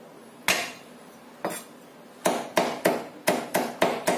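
Garlic cloves smashed flat on a cutting board before mincing, sharp close knocks: two spaced blows, then six quicker ones in a steady rhythm, each ringing briefly in a quiet room.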